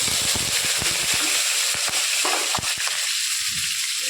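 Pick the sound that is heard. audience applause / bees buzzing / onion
onion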